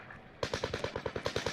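Automatic gunfire in Call of Duty: Modern Warfare. After a brief quiet start, a rapid, steady burst of about a dozen evenly spaced shots rattles close and loud.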